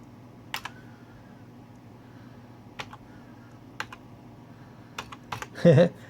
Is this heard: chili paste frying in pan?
no